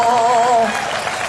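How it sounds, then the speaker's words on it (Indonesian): An audience at an evangelistic church revival service in Sibolga breaks into a short burst of applause, a brief crowd clapping with a sustained tone lingering over the start. "Mana tepuk tangannya?"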